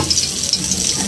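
Oil from fish poured into a hot pan for a spinach and coconut fish dish gives a brief, loud, close sizzling hiss with no voices.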